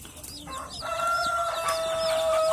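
Day-old chicks kept in a box, giving high thin repeated peeps and chirps, several overlapping calls rising in number and loudness, close by with a faint background hum.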